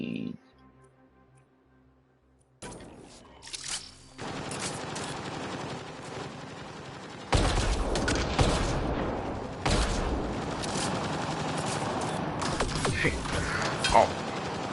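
Rapid bursts of gunfire from a combat fight in the video game Mass Effect: Andromeda, loud and sustained, with heavy blasts and mechanical clatter following a quiet opening.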